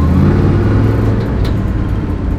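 A Plymouth GTX muscle car used as a film picture car rumbles with a loud, deep engine note, steady and close throughout, with no talk.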